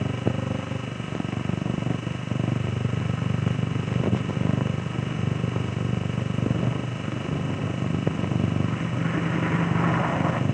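A 1973 Holden Torana GTR and a Stingray driving together in a demonstration, producing a continuous engine drone and rumble that holds steady at moderate loudness without speech.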